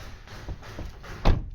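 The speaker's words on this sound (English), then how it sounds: "So first thing we'll do is shut the door." The door of a 2013 Vauxhall Astra J being shut, a single solid thump standing out after some quieter handling noises in a close, quiet setting.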